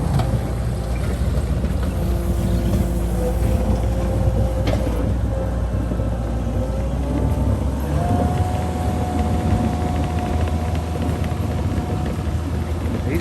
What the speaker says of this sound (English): This thing is a beast. It could chop up wood like you wouldn't believe.